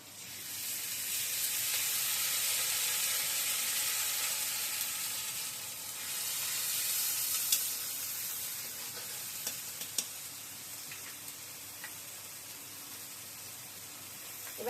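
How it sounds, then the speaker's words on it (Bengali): Onions frying in a pan give a steady, close hissing sizzle that lasts the whole time, with a few faint clicks of stirring and no talk. "এবার পেঁয়াজগুলো হালকা করে ভাজা হয়ে গেছে"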